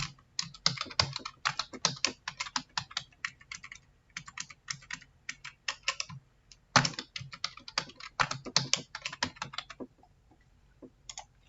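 Credentials are typed on a computer keyboard in quick, crisp keystroke bursts with short gaps, close and clear, ending with a few isolated taps.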